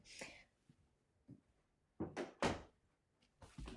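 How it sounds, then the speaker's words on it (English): A door is closed indoors with several soft thunks and clunks at irregular intervals, moderately close and quiet, with no talk. "I'm gonna close the door for a second."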